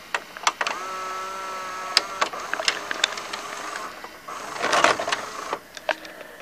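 Gear mechanism inside a White Westinghouse WVCP-8000 VHS player running, a close mechanical whir with steady motor hum broken by sharp clicks and clunks, rising into a louder grinding burst near the end, with no talk.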